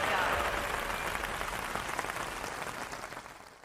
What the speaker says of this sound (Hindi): जोरदार तालियों के साथ स्वागत कीजिए डॉक्टर रामावतार शर्मा जी का